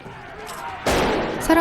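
A sudden gunshot rings out in a church scene of a dark horror film, a sharp loud blast cutting through a quieter tonal background, followed by a second short burst near the end.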